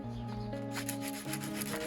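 Short bursts of sandpaper rubbing against the corners of a wooden polytunnel frame, a close, rough scratching repeated a few times over a steady background hum.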